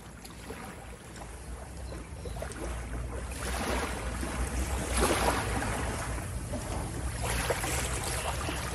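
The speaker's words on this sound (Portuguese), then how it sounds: "Muitos de nós associamos o som das ondas do mar como momentos de relaxamento e paz." Ocean waves washing in and receding, a steady broadband surge that swells louder midway and stays full, with no voices.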